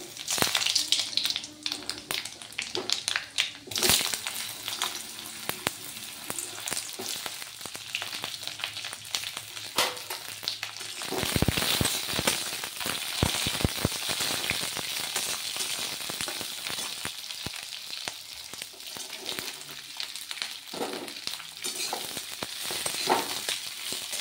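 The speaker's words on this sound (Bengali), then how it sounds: "তেলের ওপর কালো জিরে, কাঁচা লঙ্কা ফোড়ন দিয়ে আলুগুলো ভেজে নিলাম" Potatoes frying in oil tempered with black cumin seeds and green chilies, a steady crackling sizzle with occasional stirring scrapes and bursts, moderately quiet and close, with no talking.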